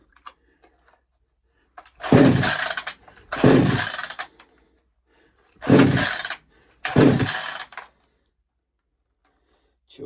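A cheap Temu 58cc chainsaw pull-started repeatedly: four loud bursts of engine sputter and roar, each lasting about a second, separated by near silence with faint clicks of handling.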